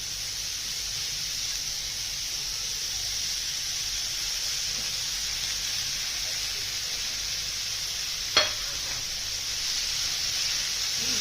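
Fenugreek leaves fry in a pan for methi thecha with a soft, even, continuous sizzling hiss, broken once by a single sharp clack of a utensil against the pan.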